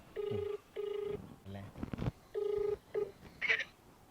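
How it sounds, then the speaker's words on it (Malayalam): A phone call rings through an earpiece in short repeated tone bursts, with a brief voice breaking in between the rings. "ഫോൺ അടിക്കുന്നുണ്ട്"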